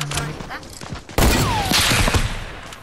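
Fortnite gunfire, a sudden loud burst of rapid shots after a brief quieter stretch, with a voice briefly speaking before.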